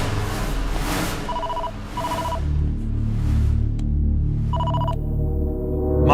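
Telephone bell ringing in a tense thriller scene: several short bursts of ringing separated by pauses, over a low droning background score, with no voices.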